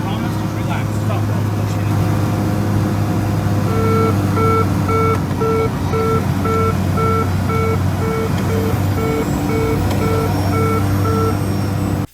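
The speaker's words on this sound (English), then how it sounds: "The next sound you heard was the landing gear warning horn" A regular, pulsing aircraft landing gear warning horn beeps repeatedly in an even on-off rhythm over loud, constant engine and cabin drone inside a small plane, with voices talking underneath.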